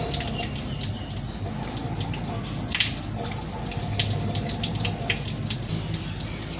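Water running from a tap as someone washes their face outdoors on a hot day, a continuous splash and trickle with a few louder bursts, close by, with no talk.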